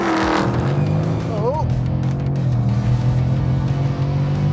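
A 2022 BMW M5 CS accelerating hard at full throttle in a drag race against a Dodge Charger Hellcat Redeye, heard from inside as a loud, steady engine roar with a rising gear-change sweep, under occasional talk.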